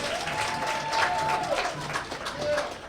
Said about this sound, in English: Come on, Hempstead, let's give ourselves a round of applause.